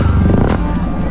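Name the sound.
motorcycle exhaust silencer sound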